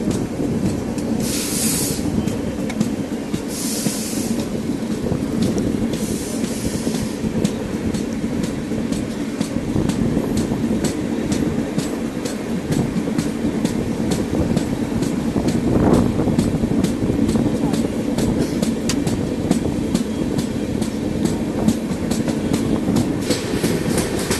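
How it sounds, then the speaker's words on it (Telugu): The Pinakini Express, hauled by a WDG-4 diesel locomotive, rolls along with loud continuous rumble, wheel clatter and rattling carriages, heard up close from on board. "ఓల్డ్ లోకోమోటివ్, పవర్ఫుల్ WDG-4 రన్నింగ్లో ఉంది."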